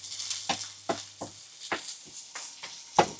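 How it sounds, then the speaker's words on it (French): Onions sizzle softly over low heat in a frying pan for a Normandy-style chicken dish, heard as a faint background hiss broken by several sharp scraping or stirring clatters, with no voices. "Voilà, ils commencent les oignons ils chantent. On entend les oignons chanter?"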